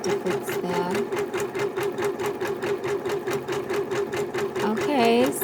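An embroidery machine stitches a blanket stitch around a heart appliqué on a quilt in the hoop, a fast steady needle chatter with a whirring motor tone, close and continuous, ending in a brief higher whine.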